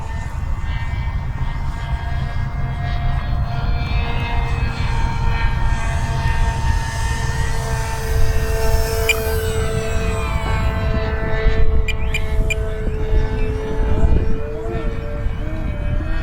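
Flex Innovations Mamba 10 G2 RC airplane in flight, its engine holding a steady, sustained drone with shifting pitch as it passes low, loud and continuous throughout, with faint voices in the background.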